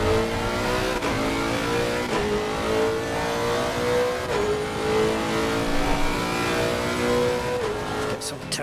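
A race car engine in Assetto Corsa Competizione, with a deep, throaty note like a Mercedes AMG, drones loudly and steadily, pitch rising and falling through gear changes across the whole stretch.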